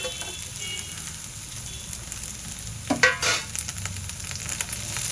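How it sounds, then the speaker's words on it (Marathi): Grated coconut, green chillies, ginger and garlic sauté with browned onion in a pan, giving a steady soft sizzle with a brief louder burst of stirring and scraping midway. "आणि पुन्हा खोबरं लालसर रंगावर होईपर्यंत परतून"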